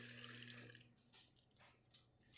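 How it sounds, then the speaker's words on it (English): Water flows from the group head of an ECM Technika V espresso machine during a test after a full tune-up, a soft steady stream with a few faint splashes and clicks, heard alone. "we are just going to quickly test the water first out of the group head"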